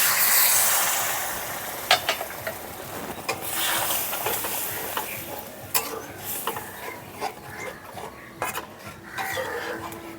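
Water goes into a pan of sizzling paneer masala, giving a loud initial hiss that settles into crackling sizzle broken by several utensil knocks and clinks against the pan.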